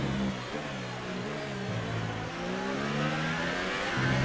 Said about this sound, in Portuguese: Agora é sem potência no motor.